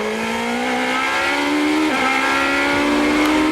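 A GP2 race car engine accelerating hard at the 2007 Spain sprint race, a loud, steady, rising whine that dips briefly mid-pass and then climbs again, with no speech.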